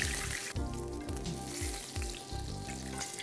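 Flour-dusted hake fries in very hot oil with a steady, dense sizzle and crackle, close and continuous throughout with no voices.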